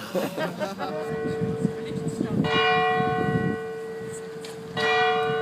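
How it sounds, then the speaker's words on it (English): Church bells ring out in England, clanging peals with long ringing tones that swell and repeat, while people talk nearby over the ringing. "Right, bells are ringing."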